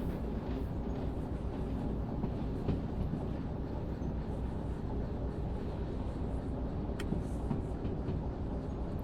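Train wheels rolling on rails in the railway simulation game Derail Valley, a loud, continuous low rumble with faint rhythmic clatter, steady throughout and with no talking.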